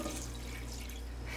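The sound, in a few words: adding water to pot of eggs for dyeing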